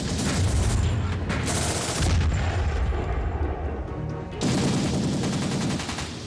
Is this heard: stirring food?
no